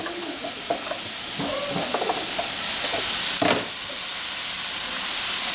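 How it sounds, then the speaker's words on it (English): Chopped zucchini sizzles in a pan for an oil-free vegan spiced zucchini with tomatoes, giving a steady, close hiss of frying with a few light stirring clinks and scrapes. "so I'm just gonna put the zucchini in now"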